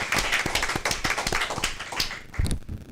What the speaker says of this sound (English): How about a big round of applause for these Bobcats?